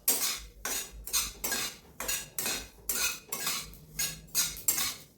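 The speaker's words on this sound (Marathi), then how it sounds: "ही खसखस भाजून झाली की माझा सगळा कोरडा मसाला भाजून झालेला आहे" Poppy seeds are dry roasted in a pan over a gas flame while a metal spoon stirs them, making rhythmic scraping and clinking strokes about once or twice a second, close and fairly quiet.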